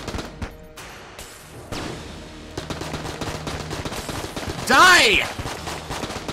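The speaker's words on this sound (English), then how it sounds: "Feel the power of my AK! Everyone's favorite assault rifle!" Rapid AK assault rifle fire in the video game Enter The Gungeon rattles under a shouting voice, with a loud burst of game effects swelling near the end.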